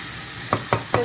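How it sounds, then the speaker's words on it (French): A wooden spoon stirring food in a pan, three short distinct scrapes evenly spaced over a faint background sizzle, close and fairly loud with no talking. "Je reprends ma cuillère en bois et je mélange."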